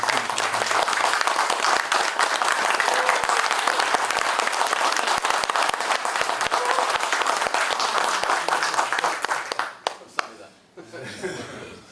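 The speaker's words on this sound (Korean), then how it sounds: "여러분 한 번 더 박수를" A crowd at a talk concert bursts into dense, loud applause that holds steady for about ten seconds, then thins out and trails off near the end.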